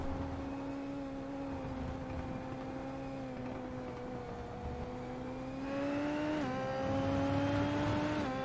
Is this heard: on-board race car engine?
yes